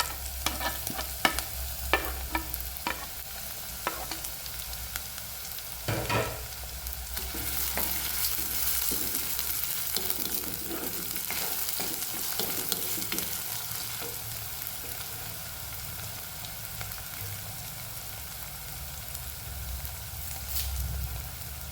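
Shallots, garlic and ginger hit hot oil in a pan for a Kerala-style fish curry, giving a steady close sizzle with stirring and scraping clatters scattered through it, and no talking.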